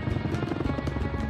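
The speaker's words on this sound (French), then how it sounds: "Une partie du matériel et des hommes est acheminée par 2 hélicoptères Chinook de l'armée anglaise." An English army Chinook military helicopter thuds with a fast, steady rotor pulse and a dense engine roar, fairly close and continuous, with no talk.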